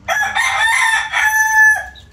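A rooster crows loudly and close by, a single long call that rises and then holds before breaking off.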